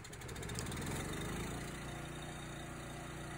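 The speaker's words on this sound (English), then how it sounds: "Set your choke appropriately and engage the electric start feature." A gas or diesel engine-driven reciprocating air compressor is running after an electric start. It gives a steady, loud engine drone with a low throbbing vibration that carries on throughout, with no voices.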